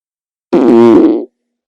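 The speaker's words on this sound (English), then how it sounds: "this is an audio of me farting" A single loud, close fart lasting under a second, buzzy and tonal with a steady pitch, standing alone in silence.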